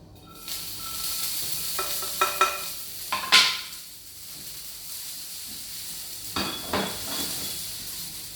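Chopped asparagus and green beans sizzling in a frying pan, a steady hiss broken by a few clinks and stirring scrapes, with bursts of louder spatter, close and alone.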